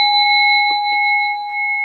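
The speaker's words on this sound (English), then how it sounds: "So Barb, you can chime." A chime struck once during an art therapy session, ringing out in a clear, steady sustained tone that holds evenly for about two seconds with faint background murmur.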